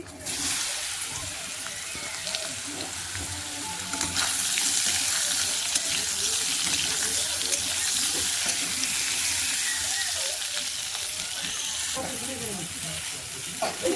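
Potatoes and eggplant sizzle loudly in hot oil tempered with cumin seeds, a bright continuous crackle with occasional stirring and a voice speaking faintly underneath.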